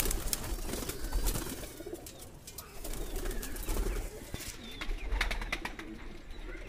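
Madrasi pigeons on a Delhi rooftop give soft, repeated coos against faint background noise, quiet and fairly near.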